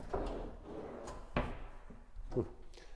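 Kitchen drawers in a villa are opened and closed, giving three distinct wooden slides and bumps spaced about a second apart, close and moderately loud in a room.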